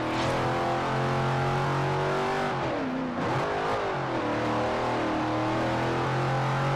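A classic barn-find car's engine revs loudly and steadily in Forza Horizon, a rich harmonic drone that dips briefly as the revs fall and then climbs back, close and continuous with no talking.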